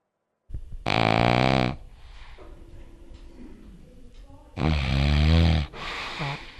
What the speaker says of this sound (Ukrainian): Чоловік починає хропіти, як тільки но засинає.